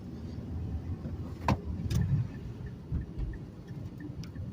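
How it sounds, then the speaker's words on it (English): A manual-transmission car engine downshifting into second gear while turning gives a low, steady engine rumble from inside the cabin, with a few brief clicks and knocks over the continuous drone. "While in this turn, I'm going to downshift into second gear."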